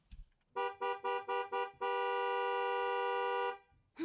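A car horn honks four short times in an even rhythm, then holds one long blast for almost two seconds, loud and close with no talking.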